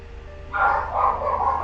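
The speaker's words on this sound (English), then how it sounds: "Knock off the barking." Dogs barking indoors in a burst of loud, overlapping barks that starts about halfway through and continues to the end, close by, with no talk over them.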